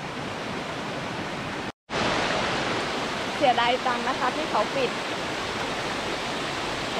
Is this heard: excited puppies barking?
no